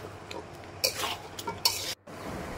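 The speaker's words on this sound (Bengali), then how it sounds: "তখন আমি আবারও আগের মতো নাড়াচাড়া করে ওগুলো ভালো করে মিক্স করবো, যাতে সবজির মধ্যে মশলাগুলো ভালোভাবে ঢুকে যায়।" Mixed vegetables and stems with spices stirred in a cooking pan, with a few scraping clatters of a utensil against the pan over a soft background sizzle.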